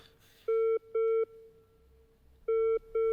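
Repeating telephone ringback tone on an outgoing call, clear steady electronic beeps in short pairs with a pause between them, heard alone.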